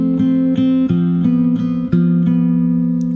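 Fingerstyle acoustic guitar picks a single bar slowly, with a bass note and treble notes plucked in a steady pattern of about six attacks. Each note rings clearly and close, with nothing else in the background.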